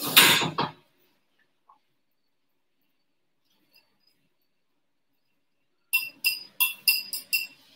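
A whisk works through strawberry almond cake batter in a bowl: a short scraping burst, a long pause, then a quick run of five or six sharp, close metallic clinks against the bowl.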